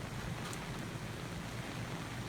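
Rain falls at a campsite as a faint, steady broadband hiss that stays even throughout, with no voices.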